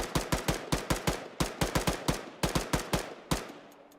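Rapid gunfire rings out in a military video game, with fast bursts of close, sharp shots in uneven clusters. The shots stop near the end and leave a faint hum.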